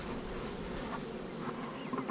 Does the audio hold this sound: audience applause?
no